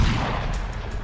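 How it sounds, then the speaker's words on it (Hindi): A gunshot effect in a Hindi horror audio drama, fired by a character in anger: a single loud, booming blast with heavy low-end rumble that fills the whole moment, with no voices over it. "तभी गंगा ने गुस्से में आकर गन चला दी"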